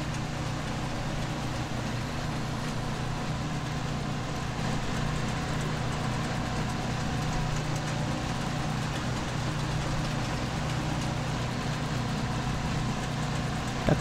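Steady tractor engine drone in Farming Simulator 19, with the vehicle cutting a wheat crop in an Indian mod; a constant low rumble with mid-range mechanical texture runs unbroken at even loudness throughout, with no voices.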